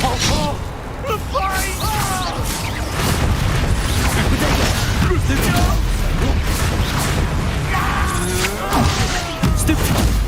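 Hogwarts Legacy duel with the Depulso force spell going off amid a flurry of other spell effects, giving dense booming whooshes and crashing impacts that run continuously at loud, near level under shouted spell names.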